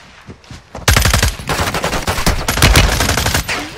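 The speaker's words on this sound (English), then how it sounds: "Someone's behind me shooting too" Rapid automatic gunfire from a video game starts abruptly after a few faint pops, then runs as loud, close, continuous bursts until the end.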